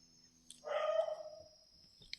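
A single dog barks once in the quiet of the night, around 1 a.m., a brief faint call heard from some distance against a still background.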